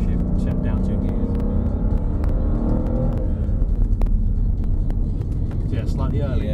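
Mercedes-AMG SL63 on the Mercedes-Benz World race track, its engine rumbling loud and close as it shifts down two gears, heard under ongoing conversation inside the car.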